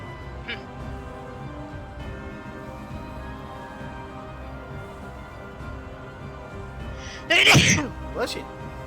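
A single loud sneeze bursts out near the end, close and sharp with a smaller follow-up, after a stretch of quiet room tone with faint game-like background sound.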